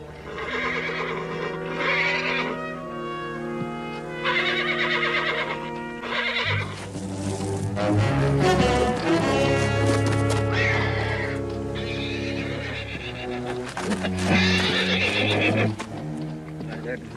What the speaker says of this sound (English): Just a couple of fellas trying to catch themselves a wild horse.